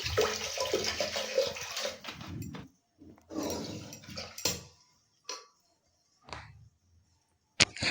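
Measured water is poured onto rice in a pressure cooker in several short splashing bursts separated by pauses, with light clinks of a cup or glass between pours.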